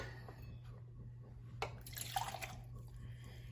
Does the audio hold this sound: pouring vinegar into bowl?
yes